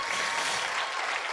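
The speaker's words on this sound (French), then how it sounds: "applaudir pour encourager les baptisés?" A church congregation applauds the newly baptized during a baptism service, a dense, steady wash of many hands clapping together, fairly loud and sustained throughout the short burst.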